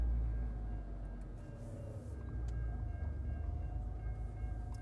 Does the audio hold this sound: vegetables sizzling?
no